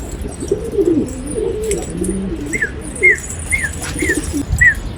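Pigeons in a coop give low, throaty coos in overlapping phrases close by, over steady background hiss, with a few short, higher bird calls repeating toward the end.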